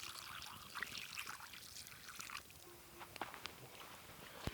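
Water poured for dogs at an overnight campsite, a soft trickling stream running for a few seconds near the microphone, with faint outdoor rustles and small clicks around it.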